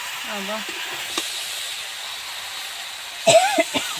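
Boiled pumpkin and vegetables are folded into frying spice paste, producing a steady, moderate sizzling hiss, with brief bits of voice at the start and end.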